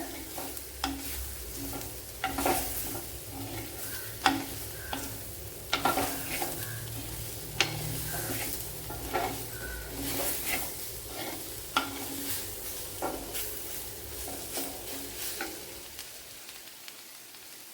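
Precooked squid sizzles steadily in a hot pan while a spoon stirs and scrapes through it in repeated close strokes, with no voices.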